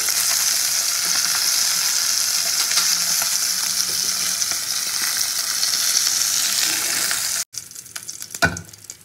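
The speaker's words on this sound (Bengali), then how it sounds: "তো মাছগুলো তো আমি উল্টে পাল্টে খুব ভালো করে ভেজে নিয়েছি" Pieces of rohu fish frying in hot oil, a continuous loud sizzle that cuts off abruptly near the end, followed by quieter clatter and a utensil knock.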